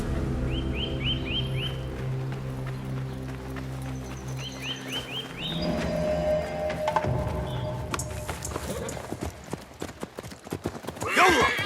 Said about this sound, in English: I prepared the horses.